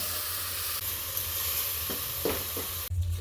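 Washed rice is tipped into a sizzling fried spice mixture in a pan, with steady frying hiss broken by a few soft thuds and scrapes, then a sudden drop in sound near the end.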